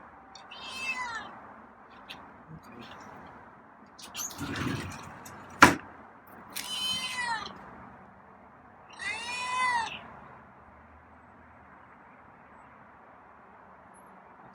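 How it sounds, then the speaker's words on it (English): A feral cat being tamed meows several times in short, separate calls, close and fairly loud, with a brief knock or thump between them and no talking. "Some meows from you, huh?"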